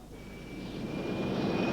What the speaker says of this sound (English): And this is our plane, the SAF Air C-130 Hercules.